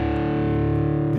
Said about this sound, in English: Now I have a medium gain distortion. I think it's a Friedman amp on my FX2 processor.